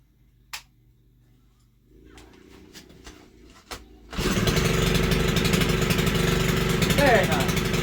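A Stihl HT101 pole saw engine, just fitted with a new carburetor and fuel line, fires up after a few quiet clicks and then runs loudly and steadily at close range.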